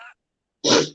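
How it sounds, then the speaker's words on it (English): A person blows their nose into a tissue in one short, loud, breathy honk after a moment of silence, close to the microphone. "quickly get a tissue and blow my nose"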